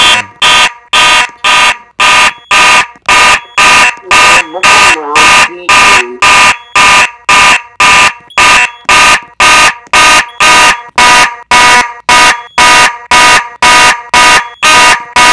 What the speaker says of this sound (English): I'm gonna activate this pull station right there.